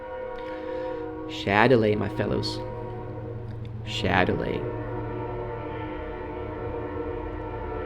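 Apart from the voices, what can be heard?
train horns, from the video game Minecraft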